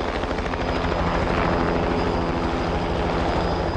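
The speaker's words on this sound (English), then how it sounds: "They sent a helicopter to pick up one dying British soldier." A helicopter's rotor thumps in a steady, loud, continuous beat with engine whine, sent to evacuate a wounded British soldier during the Serb offensive in Bosnia, with no voices over it.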